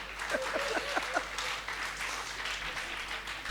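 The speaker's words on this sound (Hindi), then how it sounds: "तालियां बजाओ अनिल के लिए" Scattered clapping from a poetry-recital audience for the poet Anil, fairly faint and roomy, with a few voices near the start before the applause settles into a soft, uneven patter.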